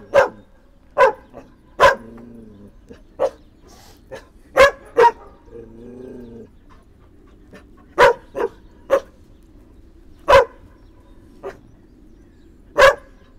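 Dogs at an animal shelter bark in sharp single, well-spaced outbursts, loud and close, with soft whimpering whines between the barks.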